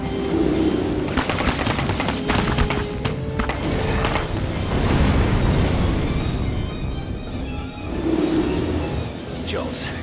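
Rapid bursts of gunfire crackle through a battle in the video game Clive Barker's Jericho, loud and sustained, with shouted voices cutting in over the shooting.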